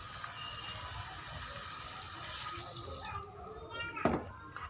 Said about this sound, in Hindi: अब मैं इनमें तकरीबन आधा कप पानी शामिल करूँगी